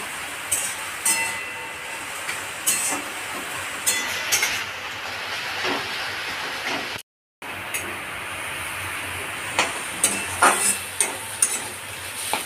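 Taro leaves frying in a pan, a steady broadband sizzle with repeated scraping stirs and clinks, one brief dropout midway, no voices.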